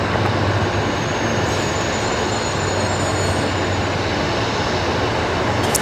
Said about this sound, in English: Flight heading off.